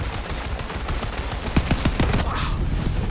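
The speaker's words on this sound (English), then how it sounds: "Alright, who in the hell's shooting?" Gunfire in the video game Borderlands 3, a steady rattle of rapid shots with several louder, punchier cracks toward the end, dense and continuous with no talking.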